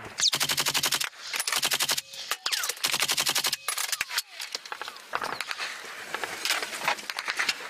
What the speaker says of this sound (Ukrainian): 30-міліметрові набої з ворожої бойової машини піхоти змушують наших вояків втиснутись у землю